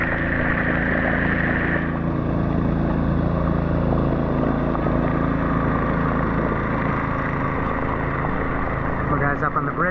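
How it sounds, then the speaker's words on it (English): A long-tail boat motor drones steadily on a river in Vang Vieng, Laos, a loud continuous engine hum holding throughout with a slight shift as it passes by. "There's a long-tail boat"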